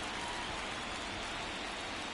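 Steady rain falls over an outdoor ballpark in Atlanta, Georgia on a cold night during a World Series baseball game, a dense even hiss with no clear voices.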